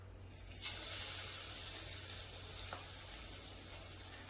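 Chicken 65 pieces frying in hot oil, a steady faint sizzle and crackle that holds evenly throughout with a brief louder burst near the start.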